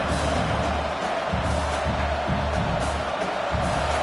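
A dense, roaring wash of stadium crowd noise at a football game fills the air continuously, loud and unbroken, with faint cheers swelling within it.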